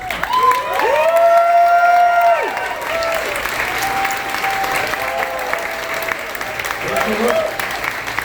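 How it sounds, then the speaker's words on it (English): A crowd at Sidetrack in Chicago applauds warmly for teachers in the room, sustained clapping and some cheering over about eight seconds while a voice talks over the start and tonal sounds drift through. "Give them a round of applause, please"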